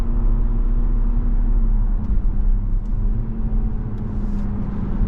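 A 2025 Cadillac CT4-V sports sedan on all-season tires accelerates out of a turn, a steady loud low engine rumble and road drone filling the cabin alone for several seconds.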